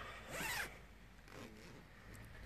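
The zipper on an Ergo Pouch baby sleeping bag is drawn in a quick, fairly close rasping pull, followed by a second softer zip stroke, with no one talking.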